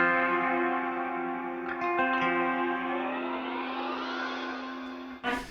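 A guitar played through a reverb effects pedal rings out in a sustained, distorted chord that decays with a lingering wash of echo, ending on a brief sharp noise.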